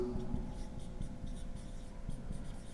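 A black pen writes on paper in a quiet room, with soft close scratching strokes in short repeated bursts.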